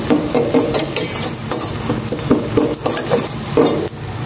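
Garlic frying in plenty of cooking oil gives a close, loud sizzle, with rhythmic spatula scrapes and clacks against the pan every half second or so.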